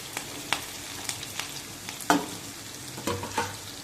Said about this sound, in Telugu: ఇలా కలుపుతూ కొద్దిసేపు వేయించుకోవాలి